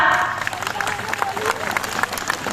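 Steady applause from an audience at a Hindi poetry recital, a dense wash of clapping with a few louder claps standing out, continuing throughout.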